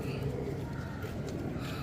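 A Holi Cooper pigeon coos softly with low, rounded notes over a muffled, busy background at a pigeon sales center.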